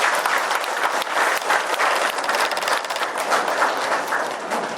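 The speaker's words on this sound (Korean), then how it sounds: "큰 박수 다시 한번 부탁드립니다." Steady, dense applause from a large indoor audience at a residents' briefing on housing redevelopment, clapping continuously throughout without pause.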